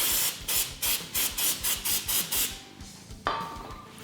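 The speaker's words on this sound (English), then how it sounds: "Just spray it off a little brake clean and then go ahead and wipe it down." Brake cleaner sprays in rapid hissing bursts onto an ATV crankcase cover, a regular rhythm of short loud blasts for a few seconds, then one longer steady spray, close up with no talk.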